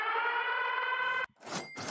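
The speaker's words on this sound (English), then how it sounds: "Go ahead and play the siren." A wailing siren sound effect plays at a steady pitch for over a second, loud and alone, then cuts off abruptly and is followed by a couple of brief noisy bursts.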